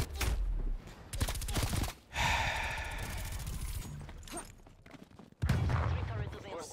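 Sentry turret gunfire in Call of Duty: Black Ops Cold War, several sharp bursts of rapid shots separated by brief pauses, close and loud, mixed with game effects and a voice talking.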